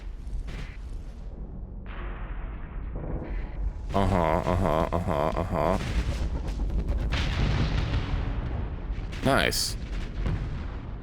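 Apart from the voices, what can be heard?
missiles firing at fleeing ships in a video game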